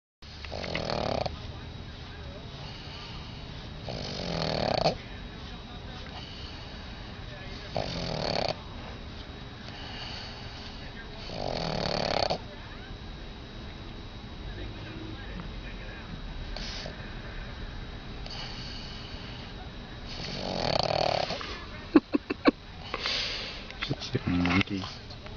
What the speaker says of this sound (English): It's a snoring pug.